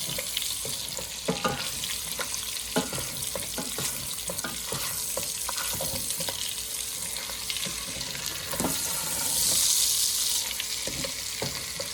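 Meat browns in hot grease for Zuppa Toscana soup, a steady close sizzle and crackle broken by intermittent scraping and stirring clicks of a utensil against the pot.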